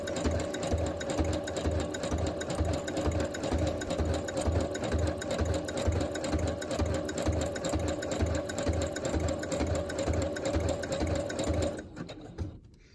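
A sewing machine stitches through chipboard with a steady, rapid mechanical chatter and a low hum that runs on evenly before stopping near the end, close and alone.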